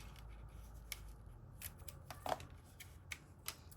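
Tear-and-tape backing peeled away during a stamped card craft, heard as a few faint, brief papery rasps and crinkles at close range with no one talking.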